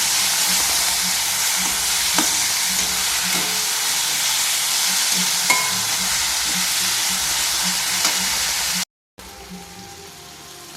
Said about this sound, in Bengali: দিয়ে দেব টমেটো কুচিগুলো, দিয়ে এবার একটু নাড়াচাড়া করে মশলাটা